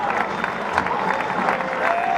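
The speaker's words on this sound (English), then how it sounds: "This crowd, they gave him a standing ovation." Crowd at an NCAA college baseball super regional game between Louisville and Miami applauds and cheers in a standing ovation, a broad, distant wash of clapping and voices with a commentator talking over it.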